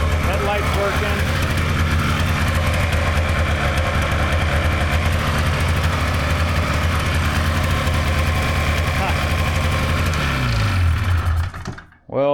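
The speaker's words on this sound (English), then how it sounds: "it's idling, sounds great" A long-neglected snowmobile engine idles steadily and loudly up close with a low rumbling drone, then winds down and cuts off at the end.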